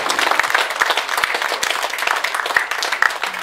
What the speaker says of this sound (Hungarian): Még egyszer nagy tapsot nekik